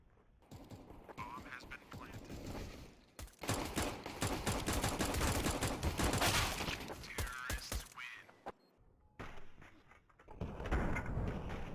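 Gunshots in a first-person shooter video game, a long stretch of rapid sharp cracks and clicking mechanisms, loud and close, tapering off with a few scattered shots near the end.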